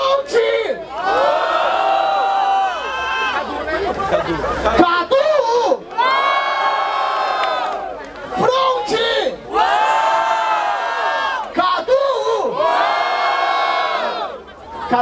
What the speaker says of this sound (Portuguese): Muito barulho pra quem gostou das rimas do Front!